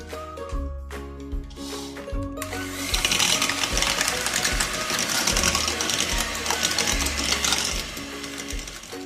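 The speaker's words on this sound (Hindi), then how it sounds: "अब इसमें मैं वनीला एसेंस और चीनी डाल के इसे फ्लफी होने तक मैं इसे बीट करूंगी" An electric hand mixer beating vanilla essence and sugar until fluffy, a steady rattling mechanical whir with a rhythmic pulsing low thump, running continuously and fairly loud throughout with no speech.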